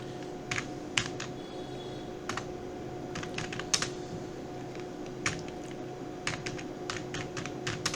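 Code being typed on a computer keyboard during a computer science practical, with irregular bursts of crisp key taps, some quick runs and a few pauses, heard close over a faint steady hum and without speech.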